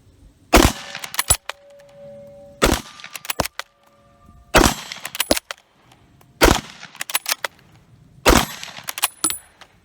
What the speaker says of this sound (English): I'm going to try to fire some shots in a quick succession.